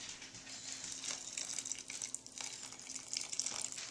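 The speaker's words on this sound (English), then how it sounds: "then you're going to add in your 1 cup of boiling water" A cup of boiling water poured into thin cake batter in a mixing bowl, a steady hissing trickle and splash running continuously at moderate loudness, with no talk.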